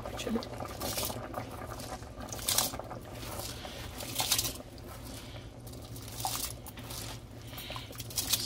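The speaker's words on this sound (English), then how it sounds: "we're gonna add the rice you ready yeah put the rice in" Dry rice tipped into a simmering pot of Jamaican rice and peas with coconut, a steady bubbling, wet patter that swells in a few soft rushes, close by, with faint voices underneath.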